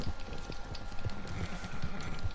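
Rapid hoofbeats of a galloping horse clatter steadily under a busy background of game noise in Red Dead Online.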